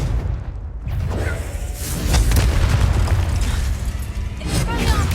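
A Confringo blasting spell explodes in Hogwarts Legacy on PS4 Pro, a loud sustained booming burst with rumbling low end and whooshes, while a voice speaks over the game.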